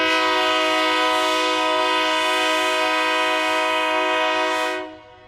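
The horn of a 1943 Atlantic Coast Line Railroad locomotive blares in one long, loud, steady chord close by, then cuts off abruptly near the end.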